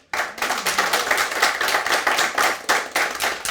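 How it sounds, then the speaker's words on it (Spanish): A church congregation applauds together, a dense burst of many hands clapping close and loud with rhythmic surges, lasting a few seconds without talk. "Démosle un aplauso al Señor."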